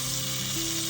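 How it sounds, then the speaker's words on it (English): Steak frying in olive oil, a dense, steady hiss and crackle of sizzling fat that holds evenly throughout at close range, with no voices. "Listen to the sizzle."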